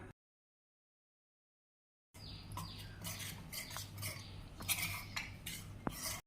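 A spoon stirs cornflour paste in a bowl after a couple of seconds of silence, making close, soft scraping and light clinks of metal against the dish, with a few sharper taps.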